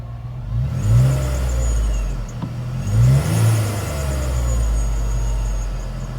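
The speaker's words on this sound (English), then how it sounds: "You can just barely hear the whine of that supercharger upon startup." A Ripp-supercharged Jeep Wrangler JK engine starts and revs in two strong swells close by, with a thin high supercharger whine running above the engine rumble.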